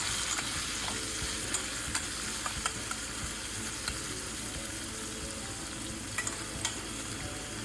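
Onions frying in a pan hiss in an even, dense sizzle, close and steady, with occasional soft clicks and scrapes from stirring; no voices.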